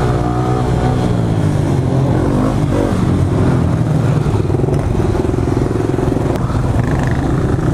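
A small Honda Grom motorcycle rides with a group of supermoto bikes, its engine droning loudly and continuously up close with shifting revs and a rough, buzzing tone.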